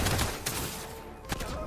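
SMG fire in the shooter game Project Onyx: rapid, fairly faint bursts of gunfire with a couple of sharper shots, mixed into game noise.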